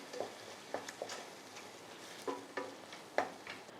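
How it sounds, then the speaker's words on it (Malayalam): Chicken masala with tomato sauce and a splash of water being stirred in a pan: faint, scattered scrapes and light clinks of a spoon, quiet and close, with no voices. "ഇത് നല്ലതായിട്ടൊന്ന് ഇളക്കാം"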